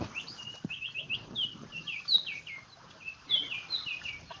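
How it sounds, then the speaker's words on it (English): A songbird chirps and warbles repeatedly outdoors during a fishing outing, with quick bright notes in bursts over a quiet low background and no speech. "Well, that bird sounds happy, Danny."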